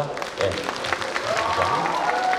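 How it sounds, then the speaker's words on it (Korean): An audience at a local community gathering applauds a chairman as he arrives, steady scattered clapping under a voice over a microphone. "여러분 박수 한번 크게 한번 주시기 바라겠습니다"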